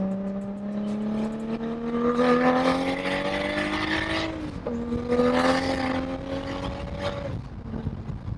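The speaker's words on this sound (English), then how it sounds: "We're in a Supra and the top's off" An 800-horsepower Toyota Supra with its roof off, engine droning loudly and rising in pitch through two long pulls, with a brief dip between them and wind rushing past the open cabin.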